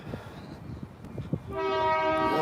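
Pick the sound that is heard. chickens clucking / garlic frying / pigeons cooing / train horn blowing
train horn blowing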